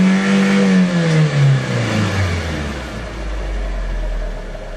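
A Nissan engine revved briefly above 6,000 RPM, then dropping back, its loud whining pitch falling steadily over a few seconds into a lower idle rumble, close by and without talk.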